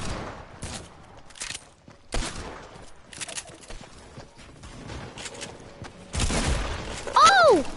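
Pistol shots ring out in a video game, a few sharp cracks scattered across the scene amid game noise and footsteps, with people talking over it and a louder burst near the end.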